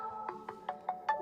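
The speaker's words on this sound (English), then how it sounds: "sorry, that's my husband ringing" A phone ringtone for an incoming call plays a quick series of five bright electronic tones at an even rhythm, fairly faint and alone.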